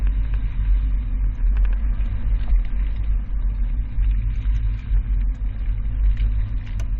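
A 2020 Cadillac Escalade carrying a Yakima RidgeBack bike rack drives through a slalom, its engine a steady deep rumble with road noise and faint rattles, close and continuous with no talk.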